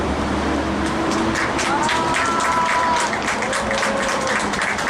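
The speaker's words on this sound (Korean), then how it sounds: "큰 박수로 맞이해 주십시오." Audience applause at a Korean writers' cultural event as a children's author is welcomed to the stage, loud dense clapping that fills the whole span with some crowd noise.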